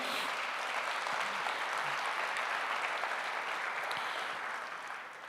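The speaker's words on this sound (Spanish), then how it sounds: "Dele fuerte ese aplauso al Señor." A church congregation at a morning service applauds with dense, steady clapping that fills the room. The applause fades slightly toward the end.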